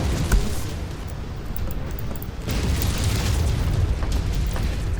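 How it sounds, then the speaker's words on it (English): An ammo explosion on a mech in the MechWarrior 5: Mercenaries video game: a heavy, sustained roar of booming blasts and crackling debris that stays loud and dense throughout, with a fresh surge of rumble midway. "he's got an ammo explosion."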